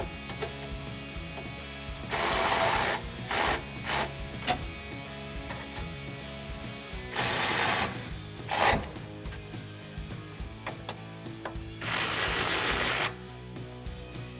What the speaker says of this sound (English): grab your 17mm socket and tighten these down